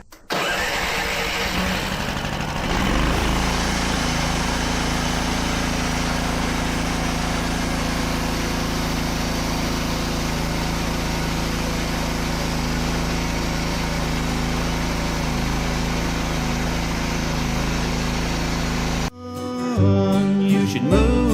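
A sawmill engine runs at a steady, loud drone while short walnut logs are sawn into boards, then it cuts off near the end and a brief clatter follows.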